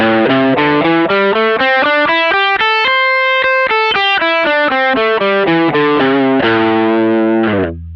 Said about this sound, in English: Here's what the pentatonic scale sounds like.